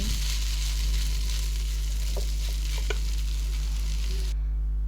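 Egg noodles are tossed and fried in a pan, a steady close sizzle with a few light stirring scrapes, cutting off abruptly near the end, no talk.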